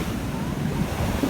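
Ocean waves and wind at Manhattan Beach make a steady, broad rush of surf with wind buffeting the microphone, continuous and fairly loud through the brief moment.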